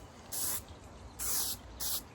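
Tan spray paint hissing from an aerosol can in three short, sharp bursts, the second one longest, heard up close with quiet gaps between and no talking.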